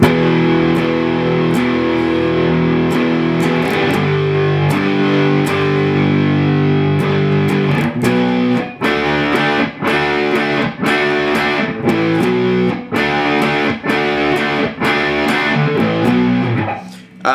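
A loud distorted electric guitar riff from a song: sustained chords at first, then a fast chugging rhythmic pattern of palm-muted hits and chord stabs.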